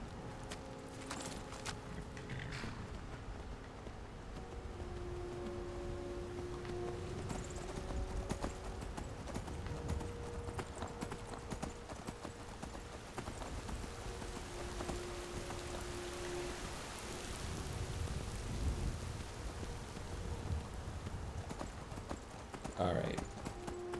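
Horse hooves clip-clop steadily in the video game Skyrim, a repeated walking rhythm over a soft bed of falling rain, heard at moderate level for the whole stretch with game ambience around it.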